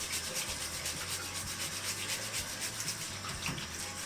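A brush is scrubbed with a couple of drops of liquid soap and water in quick, even back-and-forth rubbing strokes, soft and close, with a faint watery hiss throughout.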